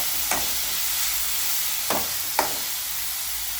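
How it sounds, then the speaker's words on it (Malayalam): Onions, tomato and ginger sautéing in a pan, a soft steady sizzle with three brief scrapes of a stirring spoon, no voices. "ഇനി നമുക്കിത് നല്ല രീതിയിലൊന്ന് വഴറ്റണം"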